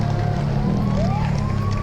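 Ambulance siren wailing close by during a bicycle race, its rising and falling tone riding over a loud, constant rumble of wind and road noise.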